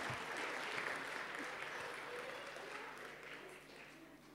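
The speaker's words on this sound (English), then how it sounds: "Yeah, we'll give them a clap." Audience at a church Friday Kids Club gathering applauds the children helpers as they return to their seats, a steady moderate wash of clapping that slowly fades, with a faint low hum beneath.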